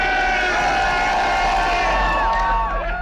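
Dense crowd of fans cheering and shouting along Boston streets at a Patriots Super Bowl victory parade with duck boats, a loud, steady roar with whistles and voices rising over it throughout.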